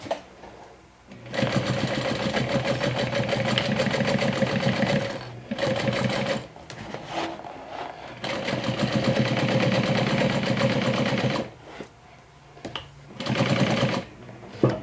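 A sewing machine stitches over seam allowances and straps in several bursts, a loud close rapid mechanical whirring that starts and stops with short pauses between runs.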